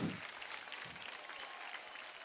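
Audience clapping after a dance performance on a Marathi TV dance competition show, a short dense burst of applause heard alone and fairly faint.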